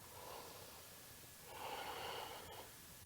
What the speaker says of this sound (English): Breathing, inhaling, and exhaling.